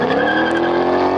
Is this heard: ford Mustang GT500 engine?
yes